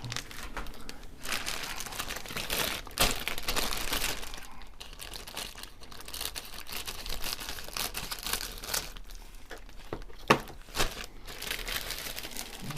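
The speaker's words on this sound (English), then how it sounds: "I'm just taking them out of bags" Plastic parts bags from an Academy 1/48 Il-2m3 Sturmovik model kit crinkle and crackle steadily up close as they are handled and torn open, with rustling bursts and a few sharper snaps.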